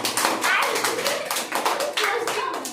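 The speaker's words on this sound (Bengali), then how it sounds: "জোরে হাততালি একটু" Classroom of children clapping loudly together in a spoken English and general knowledge lesson, a dense burst of hand claps filling the whole moment with a few young voices mixed in.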